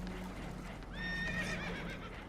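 Spooked horses whinny loudly in Red Dead Redemption 2, aboard a damaged boat taking on water; a single high, wavering neigh rises over a steady low rumble, with no voices.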